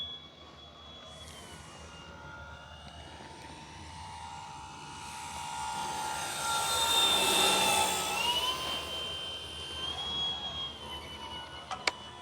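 An E-flite T-28 Trojan V2 1.2m RC plane on a 3S battery flies at about 30% throttle, a steady whining electric motor buzz that swells as it passes nearer mid-clip and fades again, with no talk.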